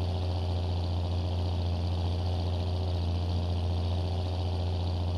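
A John Deere 6920 tractor in Farming Simulator 22 idles with a steady, deep engine hum that stays even and unbroken, close and moderately loud, with no talk over it.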